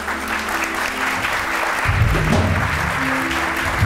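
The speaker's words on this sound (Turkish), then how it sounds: "Ben alkışın sebebini anlamadım." A studio audience at a Turkish television talk show gives sustained, dense applause that swells slightly midway and continues to the end.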